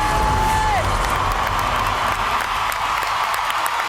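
A large X Factor UK final audience cheering and applauding loudly and steadily for several seconds, with scattered whoops rising above the clapping.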